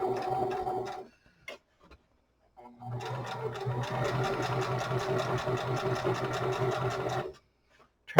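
Sewing machine stitching a small fabric piece, a short run of needle clatter, a pause, then a longer steady stitching run with a fast even rhythm, close and alone.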